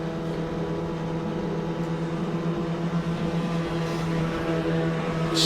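Autonomous race cars in the Indy Autonomous Challenge at CES, heading toward the pit lane: a steady engine drone with tonal whine, continuous and moderately loud, no speech.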